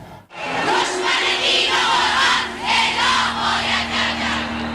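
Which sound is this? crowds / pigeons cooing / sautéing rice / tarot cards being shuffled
crowds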